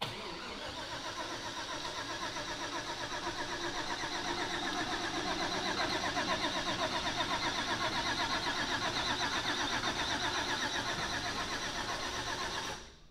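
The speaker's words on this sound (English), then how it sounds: "We are going to go ahead and crank it." A supercharged Mazda RX7 engine cranks over at low speed to prime the oil, giving a steady, continuous mechanical churn that holds evenly for about twelve seconds and then cuts off abruptly.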